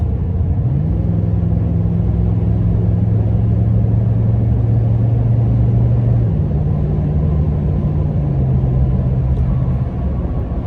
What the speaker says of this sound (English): let's give it a little gas so you can hear the difference